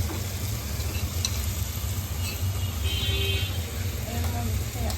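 Ginger paste goes into chicken frying in a pan, a dense, continuous sizzle with stirring, heavy low rumble underneath and a voice talking over it.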